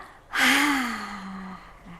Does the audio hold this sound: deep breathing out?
yes